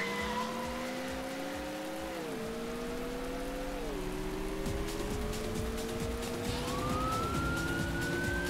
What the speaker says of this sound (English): Man, is it raining?